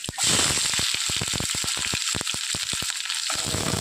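Sliced onions drop into hot oil where garlic and chili are already frying, setting off a dense, loud sizzle close by. Rapid crackling pops run through the hiss, with no talking.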